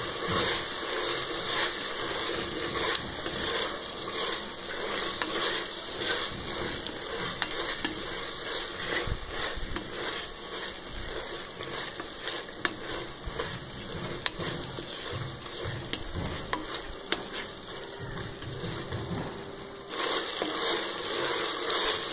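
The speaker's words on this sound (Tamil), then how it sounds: "தயிரை சேர்த்து நல்லா வதக்கிட்டுக்கோங்க." Yogurt sautéing with brinjal biryani masala in a pan, a continuous close sizzle mixed with scraping and stirring strokes throughout, no talking.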